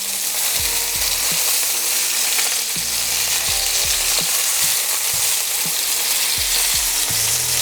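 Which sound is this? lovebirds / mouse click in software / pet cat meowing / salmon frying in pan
salmon frying in pan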